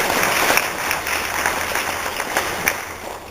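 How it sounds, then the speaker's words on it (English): Audience at a fan Q&A session breaks into loud, dense applause, a continuous roar of clapping filling the room for the whole stretch. "if we all gave such a big round of applause for Spoony, we should give it also for Scarlett."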